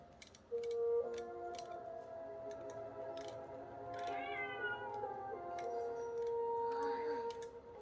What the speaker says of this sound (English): Oh, I see a cat.